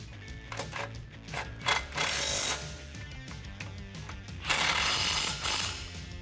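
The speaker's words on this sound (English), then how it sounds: "now you can grab your 21 socket and tighten those down" Ratchet with a 21 mm socket tightening the front brake caliper bracket bolts on a 2002-2018 RAM 1500, giving rapid close clicking pawl bursts that repeat in quick strokes, with no talking.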